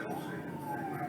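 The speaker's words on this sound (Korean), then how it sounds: "경찰차가 쫓아오네요." A police car siren wails close behind a car driving on a city street near a school zone, its steady rising-and-falling tone loud and continuous for the whole moment.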